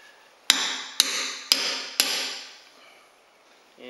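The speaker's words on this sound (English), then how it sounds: "Yep, grab a hammer." Four sharp, evenly spaced metallic hammer strikes ring out as a part is driven onto a mill drawbar rod, each leaving a bright, lingering clang that fades after the last blow.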